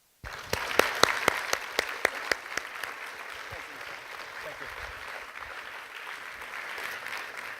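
An audience at a Washington higher-education event in the AtlanticLIVE series applauds to welcome Patrick Garrigan. The clapping starts abruptly with sharp, distinct claps and then settles into a steady, sustained ovation lasting several seconds.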